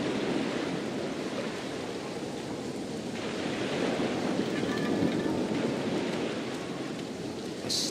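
Waves surging and washing far below a mist-covered cliff in a video game, a steady, dense roar of surf with a faint rain-like hiss, continuous and unbroken with no voices.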